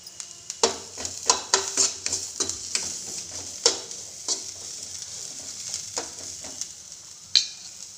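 Thinly sliced onion fries in a pan with a constant close sizzle, broken by irregular sharp scrapes and clinks of stirring; nobody speaks.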